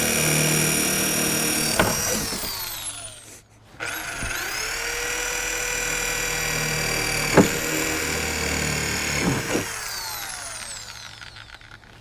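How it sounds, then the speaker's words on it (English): A power drill spins up and drives holes through the tailgate of a side-by-side in several long runs, its whining motor pitch rising and falling between brief pauses, loud and close with no talking. "as I drill holes here"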